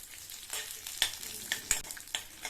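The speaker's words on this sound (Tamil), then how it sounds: "இதை நல்லா வறுத்து விட்டுக்கலாம்." Dried red chillies and garlic cloves fry in hot oil with a soft, steady sizzle and crackle, broken by a few sharper pops and stirring scrapes, faint and close, with no voices.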